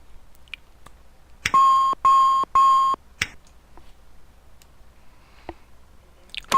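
In a SAAB 340A cockpit during startup, an alarm sounds as three loud, evenly spaced electronic beeps, followed by soft switch clicks and a final beep starting at the very end.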